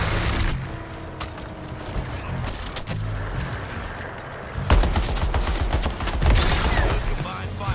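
Heavy, sustained gunfire from a combined-fire fight in Suicide Squad: Kill the Justice League, with loud booming bursts over a dense battle background and no one speaking.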